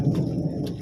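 Low thunder rumbles briefly from a rainy sky over a small hilltop, a short deep roll with no voices.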